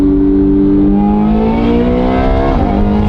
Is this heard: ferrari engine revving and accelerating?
yes